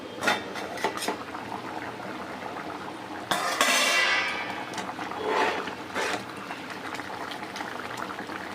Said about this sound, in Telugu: సేమియా ఇంకొంచెం ఉడకాలి ఇంకొంచెం ఉడికిన తర్వాత మనం పంచదార అనేది కలిపేసుకుందాము